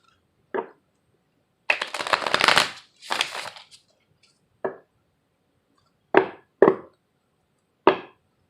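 Playing cards being shuffled in several separate bursts: short riffles and longer ruffling passes, close and crisp, with quiet gaps between them.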